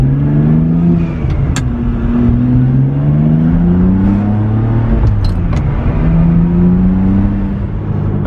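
A rare manual six-speed Ferrari 575M V12 with Tubi exhaust accelerates hard from inside the car, loud engine tone rising and falling through the revs with a shift break, steady and close throughout.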